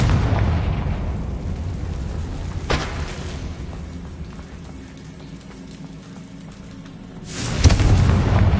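A Confringo blasting spell explodes in a video game: a sharp boom around the third second, then a louder, broader blast near the end over a steady rumbling bed.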